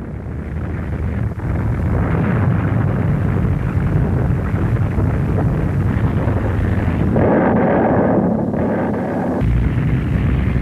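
Explosions of V1 flying bombs from Second World War archive footage: a loud, continuous rumbling roar of blasts that fills the whole stretch, heavy and dense, with no voices.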